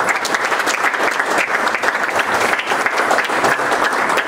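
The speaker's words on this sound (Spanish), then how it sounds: "Denle un fuerte aplauso al Espíritu Santo por la venida de ellas." A congregation gives loud applause during a Sunday church service, with crisp, rapid claps from many people forming a lively, sustained burst that continues without talking.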